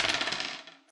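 Dice clatter and tumble across a surface during a tabletop game, a quick bright rattle that fades out within a second, close and alone.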